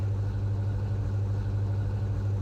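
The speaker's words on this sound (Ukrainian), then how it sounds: "мені здається, що у нас щось із двигуном не те" A steady, low car engine rumble runs throughout at an even level, like idling with no voices over it, from an engine with a suspected fault.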